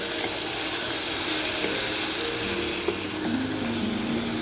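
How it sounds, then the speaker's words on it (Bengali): Okra sautéed with poppy seed paste and chilli powder sizzles steadily in a pan, a dense close hiss with faint stirring scrapes throughout. "পোস্তটা দিয়ে দিচ্ছি। এবার আমি এটা একটু কষে নেব।"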